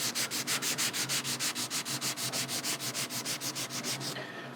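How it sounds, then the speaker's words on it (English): Rhythmic back-and-forth sanding of a guitar body with a flex pad, about twenty-five even rasping strokes against a hard surface, close and fairly loud, then stopping abruptly. "Not a huge amount of sanding that needs to be done."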